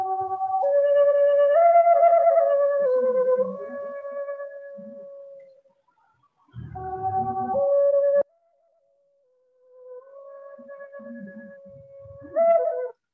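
A suling bamboo flute plays a breathy, sustained melody in long held phrases separated by brief silences, with a few faint low strums beneath and no speech.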